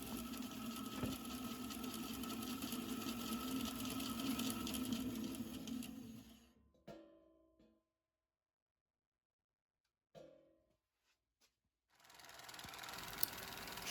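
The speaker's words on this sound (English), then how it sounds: "Here on the bandsaw, I'm just going to follow my line" A bandsaw cuts through a Zildjian 18-inch thin crash cymbal with a steady, fairly loud buzzing whir for about six seconds, then winds down to near silence with a few faint clicks before the hum returns.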